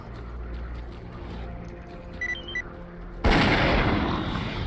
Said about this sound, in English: Let's test our gun, how good it is.